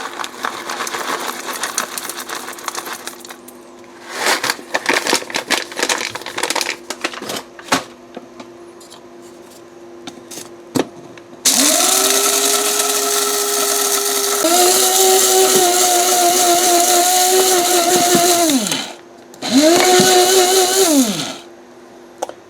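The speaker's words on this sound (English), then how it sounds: "you're going to get to the point where you don't hear any more chunking going on in the grinder" A Krups home coffee grinder grinding espresso beans, starting with scattered rattling bursts of beans being chopped, then a loud steady whirring motor run that stops and restarts in a short final burst, close and alone.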